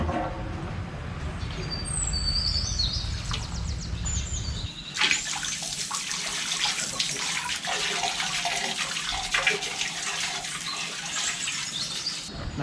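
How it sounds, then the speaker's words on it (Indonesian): Dirty water rushing out of an opened tap on a koi pond's mechanical filter chamber, a steady close splashing gush that starts abruptly partway through and continues, with faint birdsong before it begins. "air yang di sini juga kita buang. Kita buka kerannya."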